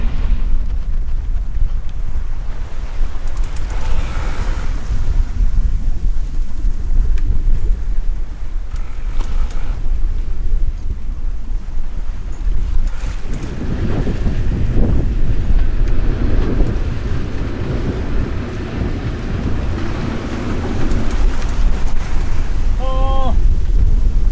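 Strong wind blows across the microphone aboard a sailing boat at sea, force 6 with wind against current in the Gulf Stream, a steady loud roar with water rushing beneath and gusts building midway.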